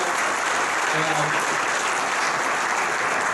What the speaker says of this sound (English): a little round of applause for everybody from the supporters, sponsors